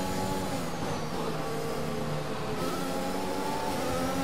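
A Formula 1 car engine in the Braking Point racing game, overtaking an Alfa Romeo with DRS and ERS, holds a steady high-pitched whine that climbs and shifts pitch, sustained and fairly loud throughout.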